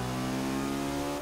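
Prototype race car engine in the Forza 6 racing game holds a steady mid-pitched drone, constant and fairly quiet throughout the short stretch, with no talk over it.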